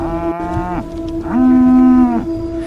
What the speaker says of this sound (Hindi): या गाय का अचानक जोर से आवाज निकालना